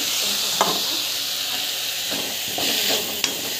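Ingredients sauté in a hot pan with a constant close sizzle and hiss, broken by a few sharp scrapes and clinks of stirring against the pan.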